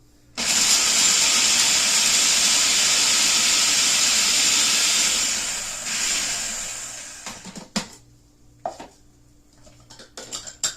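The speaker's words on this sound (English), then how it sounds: "I'm going to go ahead and run that through my food processor" A food processor whirs loud and steady, chopping onion and garlic for garlic onion mashed potatoes. The motor runs for about five seconds, then cuts out, followed by clattering and small handling knocks.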